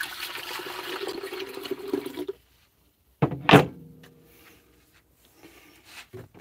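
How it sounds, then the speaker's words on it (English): Water is dumped into a container holding a toy boat in a science classroom, with a quick, close splashing pour after a stretch of faint noise and near silence. "And we'll dump some of this water in."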